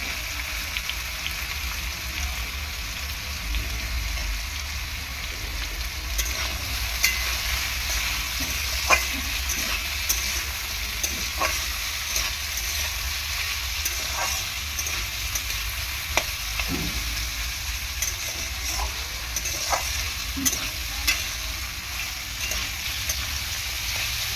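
Onions frying in a pan for a fried banana-stem dish, giving a steady broadband sizzle throughout with scattered light clicks and spatula taps, close and continuous with no speech.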